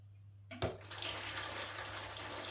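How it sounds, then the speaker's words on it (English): Water siphoned out of a betta fish tank near the sand bed: a low steady hum, then a sudden gurgling rush that settles into a continuous close watery flow. "So I don't go too mad with this, so just siphon this out."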